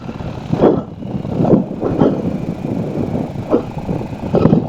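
A motorcycle engine drones steadily while riding, with a rumbling, pulsing note and wind buffeting over it, heard close up through a helmet intercom.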